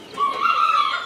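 Newly hatched chicks in a rooster and pheasant breeding farm's brooder section give a brief, thin high peep, a single chirp rising out of quiet surroundings.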